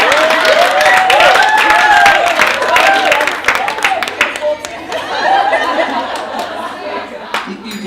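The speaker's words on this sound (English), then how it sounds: "I just gave you an opportunity to give me a round of applause." Breakfast reunion crowd giving a round of applause mixed with chatter and chuckles, loud and close at first, then thinning out as voices take over; a faint whistle-like tone rises and falls in the early seconds.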